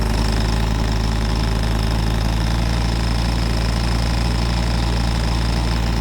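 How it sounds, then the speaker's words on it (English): A nitro engine on a Nitro 200 radio-controlled model runs steadily at quarter speed while warming up, giving a loud, continuous buzzing drone with a fast, even rattle throughout. "It's just warmed the engine up."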